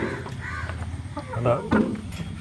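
Country chickens in a coop give soft clucks and short calls close by, mixed with the scratchy rustle of the coop while a person talks over them.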